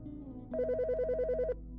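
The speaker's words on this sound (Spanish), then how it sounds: "Pero en junio de 2021, el teléfono sonó nuevamente." Telephone ringing as a podcast sound effect: a single electronic burst of rapid warbling tones lasting about a second, clear over a low background hum.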